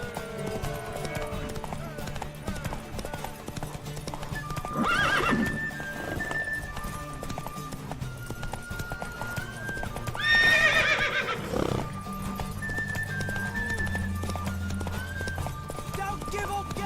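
Horse in The Witcher 3 whinnies loudly twice, around five and eleven seconds in, with clip-clopping hooves running throughout, set against game music and voices talking.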